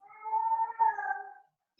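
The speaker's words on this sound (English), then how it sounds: "Maybe you should mute me so you don't hear my cat" A house cat lets out a long, drawn-out meow, close and fairly loud, wavering in pitch before trailing off, with a brief new sound starting right at the end.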